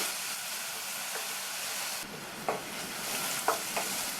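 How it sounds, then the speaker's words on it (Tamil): Ginger garlic paste sizzles steadily with onions in a hot pan, a soft continuous frying hiss punctuated by a few quiet stirring scrapes and clinks. "இந்த இஞ்சி பூண்டு பேஸ்ட்டோட பச்சை வாசனை போகிற அளவுக்கு வதக்கிக்கலாம்."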